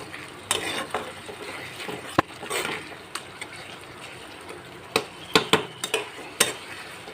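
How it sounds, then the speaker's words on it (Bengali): Spice paste for a jackfruit curry being fried and stirred in a pan with a little water, a low crackling sizzle under repeated spoon scrapes and sharp metallic taps that grow busier toward the end. "এবার অল্প করে জল দিয়ে ভালো করে আমি মশলাটাকে কষিয়ে নেব।"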